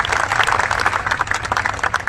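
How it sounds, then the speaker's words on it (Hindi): Loud, dense applause from a large crowd of students in a university hall, steady clapping throughout with no break. "एक बार जोरदार ताली होनी चाहिए।"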